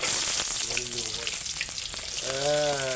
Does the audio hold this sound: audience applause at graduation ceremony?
no